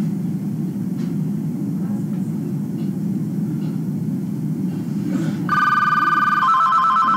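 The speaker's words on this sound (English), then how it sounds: "Phone's ringing." A telephone at a service dog training facility starts ringing partway through, a bright repeating electronic ring over a steady low background hum, loud and close, with no voices.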